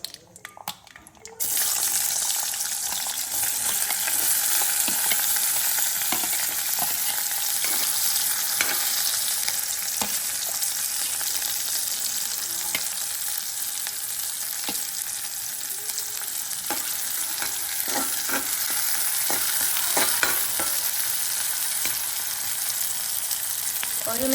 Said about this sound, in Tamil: எண்ணெய் கொதிச்சுட்டு கட் பண்ணி வச்சிருக்கிற வெங்காயத்தையும் பச்சை மிளகாயும் போட்டு தாளிக்க போகிறோம்.